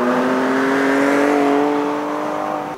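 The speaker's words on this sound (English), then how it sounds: "The engine sounds great too." 2024 Ford Ranger Raptor engine revving with true dual exhaust, a loud, steady, rising growl held for about three seconds before cutting off, heard alone.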